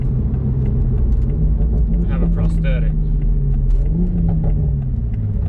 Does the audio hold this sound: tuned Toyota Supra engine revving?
yes